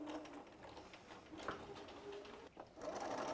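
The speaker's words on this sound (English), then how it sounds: "You could do this by hand, but I did it with a machine." Sewing machine stitching elastic into the fabric casing of a homemade respirator mask made from a bra, a quiet, steady motor hum with a brief pause near the end.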